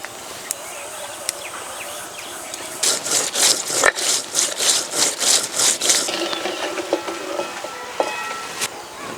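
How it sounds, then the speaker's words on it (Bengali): Whole coriander, cumin and dried and green chillies ground together into a paste, a rhythmic series of about eight scraping, rubbing strokes in the middle, close and fairly loud, with quieter handling before and after. "ধনে জিরে লঙ্কা সবকিছু একসঙ্গে বেটে নিলাম"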